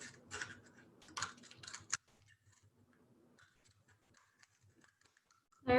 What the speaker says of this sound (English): then we're just gonna cut off each of these tabs